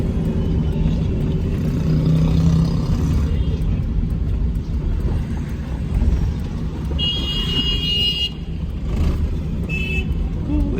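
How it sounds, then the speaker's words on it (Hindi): A Suzuki Mehran car engine runs steadily nearby, a continuous low rumble and whir with a brief higher whine partway through, heard alone without talk. "गाड़ी की पिच जो है ना वो मज़ेदार है, इंजन में जान है अभी गाड़ी के।"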